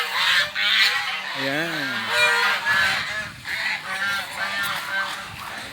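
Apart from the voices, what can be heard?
geese and ducks honking at a farm breeding area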